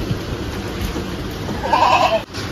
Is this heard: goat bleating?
yes